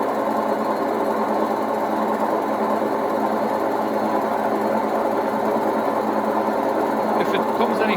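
Indesit WIDXL12 washing machine motor running steadily with a continuous mechanical hum and whir, constant and moderately loud, with a few faint clicks near the end.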